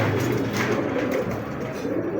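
A pair of settle pied pigeons coo close by in soft, low, rolling calls that continue steadily through the moment.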